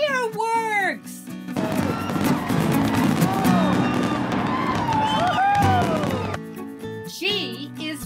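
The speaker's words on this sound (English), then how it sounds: "fireworks." Bursts of crackling and popping explosions fill the middle of the clip, with a voice speaking before and after the noisy burst.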